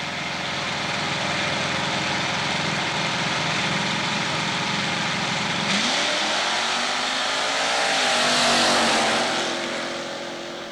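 Chevrolet Pro Mod drag cars launching at a dragway, a loud, sustained engine roar that builds, shifts pitch midway and swells again as the cars pull away down the strip, with no talk over it.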